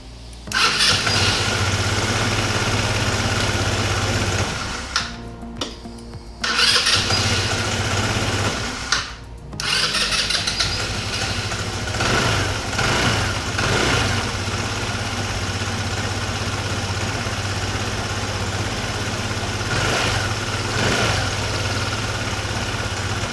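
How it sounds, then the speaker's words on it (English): A Kymco Like 200i commuter scooter with a newly replaced starter relay cranks twice with brief pauses, then catches and settles into a steady, close idle, with no talk. "let's actually try to crank it up and see whether it works this time around"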